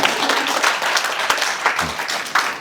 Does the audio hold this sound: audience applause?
yes